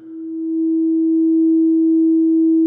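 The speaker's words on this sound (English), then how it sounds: "If we have a self-oscillating filter" Behringer 2600 synthesizer with its filter self-oscillating, producing a pure, steady sine-like tone that swells in loudness over the first half second and then holds evenly, alone and loud.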